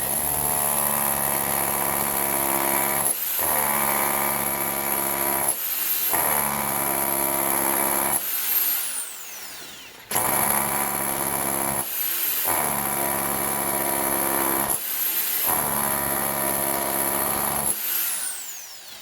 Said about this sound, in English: you can indeed drill through wood with a rotary hammer and a traditional old school bit